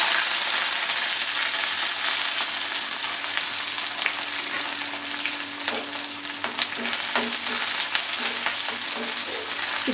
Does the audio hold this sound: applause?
no